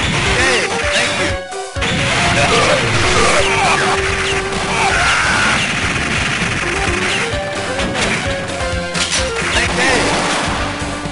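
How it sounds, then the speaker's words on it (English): Heavy machine gun fire in the arcade video game Metal Slug, a loud continuous barrage of rapid shots mixed with crashes, explosions and busy game music throughout. "Heavy machine gun!"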